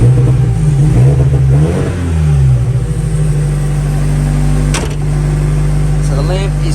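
A car engine cranks, catches and revs up and down in a garage during an alternator check, a loud rumbling idle settling afterward with a sharp clunk midway.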